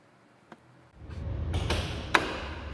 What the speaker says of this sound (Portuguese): Portas tesoura.